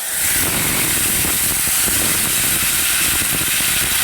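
Cut potatoes hitting hot oil already seasoned with panch phoron and fenugreek, a loud, close, steady sizzling hiss that holds without a break.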